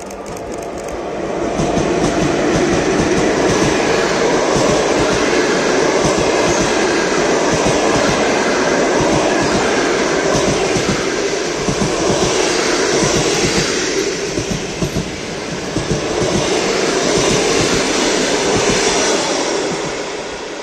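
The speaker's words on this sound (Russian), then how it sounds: "И еще один классный поезд ЭД-4005." The ED4 electric multiple unit ED4-005 rushes past on a Moscow railway line, a loud continuous roar of wheels and rattling cars that swells in and holds for about twenty seconds.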